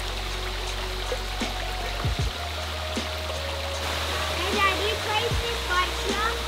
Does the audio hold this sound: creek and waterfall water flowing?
yes